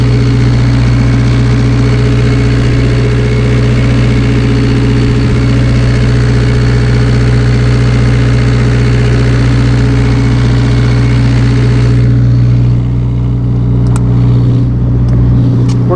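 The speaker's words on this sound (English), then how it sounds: "here we'll show you one of the generators. This is the one that's actually powering a lot of the bus up." A generator runs steadily inside an insulated compartment of a 2007 Prevost H345 mobile medical coach, a loud continuous hum with strong low tones that stays constant throughout.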